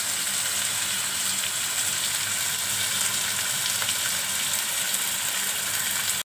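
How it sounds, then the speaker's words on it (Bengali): Ingredients for chow mein fry steadily in a pan with a constant, even hiss and sizzle, loud and close, and no talk over it. "আর এটা ভাজা হতে থাকুক"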